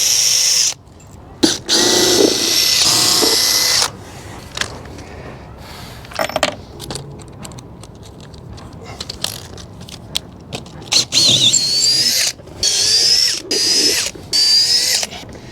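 Power drill driving screws into the deck of a wooden boat, a series of loud whirring bursts of varying length separated by quiet pauses, close and without speech.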